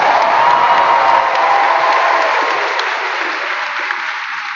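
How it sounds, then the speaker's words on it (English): Loud, dense applause mixed with cheering and a few whoops from the audience at a student assembly stage show, sustained throughout and easing slightly toward the end. "Can we give them one more round of applause?"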